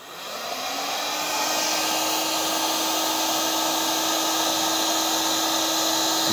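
A heat gun runs steadily on a bench test, a continuous close airy blower roar with a constant motor whine that rises quickly at the start and then holds level throughout.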